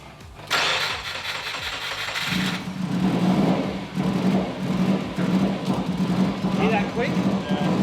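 A Subaru WRX engine starts and settles into a steady, loud idle with an occasional click, close by, with people talking over the running engine.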